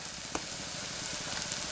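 Egg fries in a pan for noodles, with a steady close hiss of sizzling oil and a faint scrape or pop partway through, no voices.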